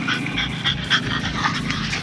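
A dog pants close by in quick, even, breathy puffs, a steady rhythm of short breaths lasting about two seconds with no talk.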